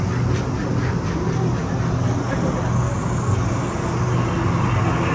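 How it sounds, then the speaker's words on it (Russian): Small tram carriage at the Getty Center in Los Angeles climbing uphill, a continuous low rumble and rolling rail noise heard from inside the car, fairly loud and steady. "Это не метро, не поезд, а чисто вагончик, который едет"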